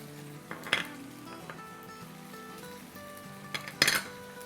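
Crushed garlic and ginger frying in the pan for chicken karahi, with a faint steady sizzle and two sharp metallic clinks of a utensil against the pot, close and quiet, with no talking.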